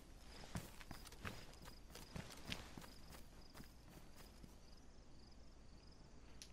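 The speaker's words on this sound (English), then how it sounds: "Thought I heard footsteps." Footsteps from the video game DayZ, a steady run of soft, evenly spaced steps with a few sharper thuds, sitting fairly quiet over a constant background hum with no talking.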